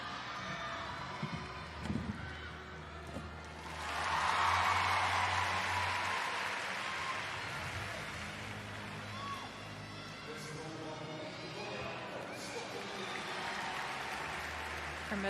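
An arena crowd at the 2023 World Championships women's gymnastics team final breaks into a round of applause for a gymnast's middle splits, swelling into steady clapping and cheering with a commentator talking over it.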